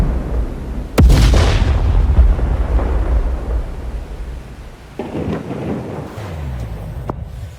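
Heavy thunder from a lightning storm during a Texas tornado cracks sharply and then rolls in a long, loud rumble, with a second rumble and a sharp crack later over steady rain-like noise.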